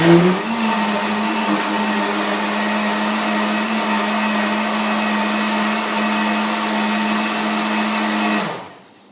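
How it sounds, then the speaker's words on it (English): A blender blending greens for a smoothie whirs at a steady high pitch for several seconds, a loud continuous motor hum that cuts off at the end. "we're gonna add the rest of the greens to the blender and blend it"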